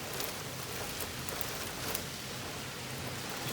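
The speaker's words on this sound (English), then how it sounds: "The rain's starting to go sideways" Heavy wind-driven rain from a hailstorm lashes down sideways on a trail where a truck has broken down, a constant loud roaring wash that holds steady from start to end with no voices.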